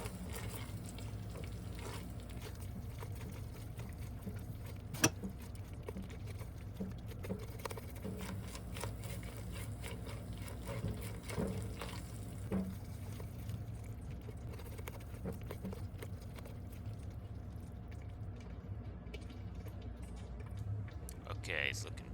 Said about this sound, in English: I'm doing a scraping motion off the bottom of the pot because I want to keep it moving